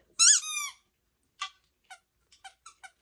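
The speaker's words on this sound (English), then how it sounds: "These all right here are just toys, and they all squeak." Squeaky dog toys for a Pomeranian puppy: one long, wavering rubber squeal, then a string of short, sharp squeaks spaced out in an uneven rhythm, close and clear with quiet gaps between.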